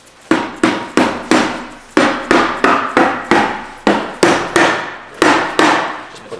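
A mallet strikes Honda transmission parts in sharp, loud, close blows, about fifteen hits in uneven bursts with brief pauses between groups.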